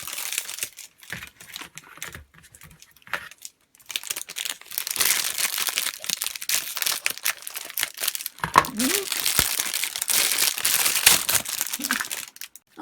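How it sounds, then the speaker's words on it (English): Artificial flower stems with wire inside being snipped and handled, crisp crackling and crinkling of plastic foliage close up, steady and fairly loud with a few sharper clips. "Then you will need to cut the stems as well."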